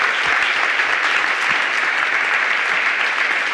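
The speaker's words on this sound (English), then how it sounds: "Very well-deserved applause." Audience applause closing a panel at a statistics conference, dense steady clapping from a large room sustained evenly throughout without speech.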